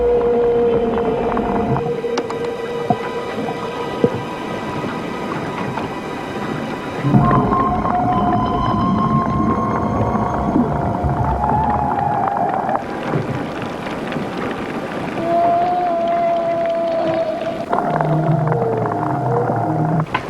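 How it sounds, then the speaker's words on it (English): Eerie underwater whale calls: long, wavering tonal moans and rising whoops that come and go over a deep rumbling background of water and engine noise, fairly loud and continuous, with no talk. "It's definitely a whale."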